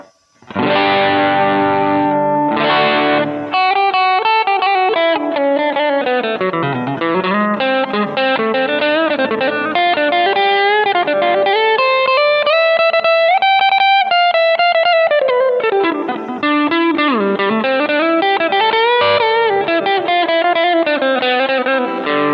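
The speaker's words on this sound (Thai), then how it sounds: "คราวนี้เราจะมาเป็นเสียงแตกที่เป็นโอเวอร์ไดร์นะครับ" Electric guitar through a Mooer GE100 with overdrive plays a continuous melodic passage with crunchy, gritty distortion, loud and close, with no voices.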